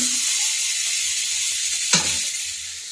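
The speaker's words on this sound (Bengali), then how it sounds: "এই দেখুন ডিম রান্না হচ্ছে" Eggs cooking in a pan in a home kitchen, a loud steady close sizzle with one brief clatter partway through, then the frying hiss fades slightly.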